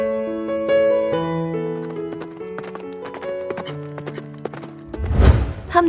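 Horse hooves clip-clop at a steady pace in a horror tale, with tonal horn-like background music sustained throughout and a loud low thud near the end.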